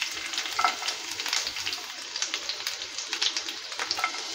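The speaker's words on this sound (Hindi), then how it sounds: "एबे मु ए छोट छोट काटिची रसुण 5टा को पकई दूची।" Small chopped garlic fries in hot oil with a continuous crackling sizzle, broken by bursts of popping and stirring scrapes, close and moderately loud.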